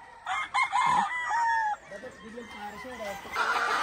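A Golden Boy Sweater gamefowl rooster on a gamefarm crows clearly at close range, followed by softer clucking from nearby fowl, with a little background noise around the calls.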